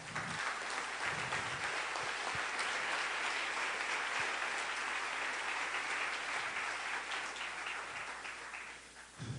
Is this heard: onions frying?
no